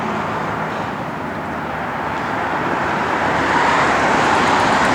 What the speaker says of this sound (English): It's got an H-pipe Flowmaster dual exhaust system on it.